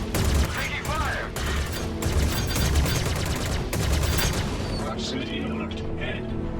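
Dense bursts of gunfire from the space game Star Citizen, loud repeated volleys packed closely together with booming impacts, easing toward the end.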